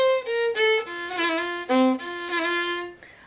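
A solo fiddle plays a lively phrase of the Ha'penny Reel, with quick ornamental rolls decorating several sustained notes, clear and close.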